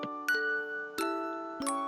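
Chimes ringing aboard a ship in the Netherlands, three clear bell strikes spaced about a second apart, each with a long sustained ringing tone that carries into the next, no talk.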